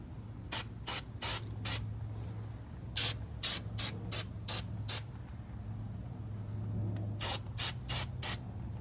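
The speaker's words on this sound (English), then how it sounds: "that's where you want to use brake cleaner" Repeated bursts of aerosol brake cleaner spray in clusters, crisp loud hisses separated by brief pauses, with a steady low hum underneath, while cleaning Ford F-150 front brake parts.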